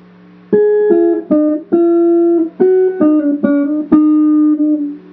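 About nine plucked single guitar notes spell out the opening phrase of the Elfen Lied theme in a slow, even line with each note ringing briefly before the next, closing on a sustained tone.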